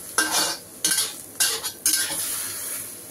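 A utensil stirring stir-fried Chinese cabbage in a pan, four quick scraping strokes spaced about half a second apart over a soft, steady sizzle.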